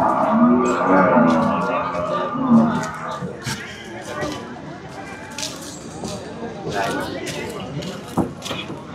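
Buffalo calves low a few times, close by, at a livestock market in Erragadda, while people talk over them and others chatter in the background.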